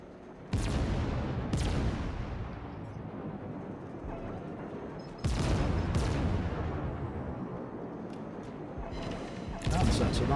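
Heavy naval gunfire from warships in the World of Warships game: three loud, booming salvos spaced several seconds apart, each with a long rumbling decay, with no talk over them.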